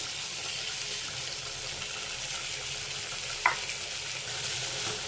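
Okra and tomato paste sauté in a pan with a steady, even sizzle and one brief clink of a utensil near the middle, close and without talk.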